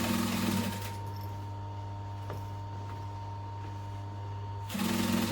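Sewing machine running steadily while top stitching a duffel bag seam an eighth of an inch in, a constant close mechanical hum with a brief louder start and restart at either end.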